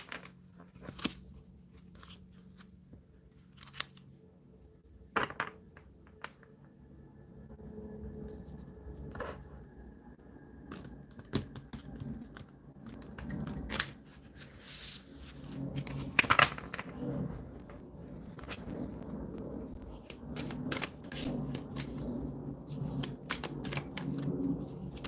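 Tarot cards being shuffled and drawn by hand, with repeated riffling bursts, flicks and soft slaps of card stock coming close and fairly quiet over about twenty-five seconds, irregular in rhythm.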